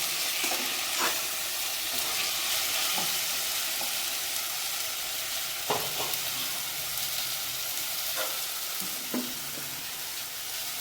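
Green chillies frying in a pan for tomato rice give a continuous, close sizzle, punctuated by scattered stirring knocks and clinks of a utensil against the pan.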